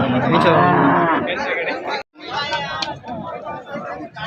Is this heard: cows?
yes